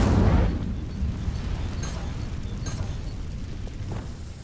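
Incendio fire spell cast in Hogwarts Legacy: a loud whooshing burst at the start that settles into a steady, rough, crackling roar.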